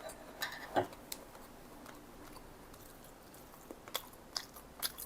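Breakfast being eaten up close: quiet chewing and a few sharp crunchy bites spaced through a low room hush, with soft clicks between them.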